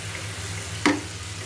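Spice paste frying in a pan for a sweet-sour chutney, a soft steady sizzle with one brief scrape of a spoon near the end, close and fairly quiet.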